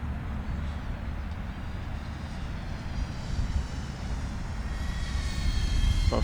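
A Diatone GT-R349 FPV drone on Gemfan 3028 propellers buzzes through the air with a steady whine that grows louder and rises in pitch toward the end as it comes in close.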